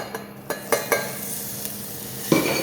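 Vegan butter dropped into a hot pan starts to sizzle, with a few sharp clinks of a utensil against the pan, one louder knock near the end.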